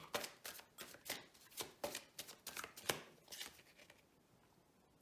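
Oracle cards (Oracle du voyageur sacré) are shuffled by hand in a rapid run of soft riffling and slapping strokes, close and fairly quiet, then the sound tapers off near the end.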